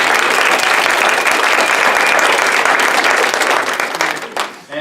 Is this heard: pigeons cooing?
no